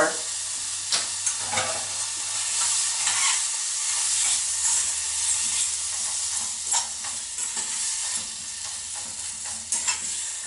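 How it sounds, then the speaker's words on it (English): Onions and garlic fry in a pan with a steady, loud sizzle while a utensil stirs and scrapes them, making repeated clicks and scrapes against the pan. "once you got your onions all sweated out and a little bit caramelized, just keep stirring it"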